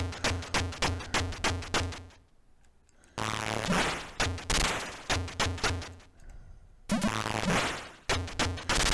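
Rapid bursts of blaster fire from the Atari ST shoot-'em-up Z-Out, loud and rhythmic, interrupted by two short stretches of a denser, sustained buzzing sweep before the steady shooting resumes.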